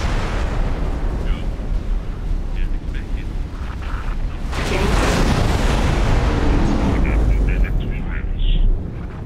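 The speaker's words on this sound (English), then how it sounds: "That's gonna be a big explosion." Spaceship explosion in the space game X4 Foundations, a heavy rumbling blast that swells midway and rolls on with crackling bursts, with a voice talking over the game sound.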